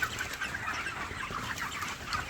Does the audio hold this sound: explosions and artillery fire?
no